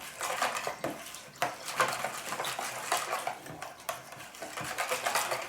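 A spoon scrapes and clinks steadily against a mixing bowl as yeast is stirred into water for pizza dough, a close, continuous rattle of irregular taps with no voices.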